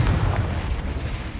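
A Confringo blasting spell detonates in the game Hogwarts Legacy, producing one deep, loud boom with a rumbling low-end thud that decays over about a second, with no voices.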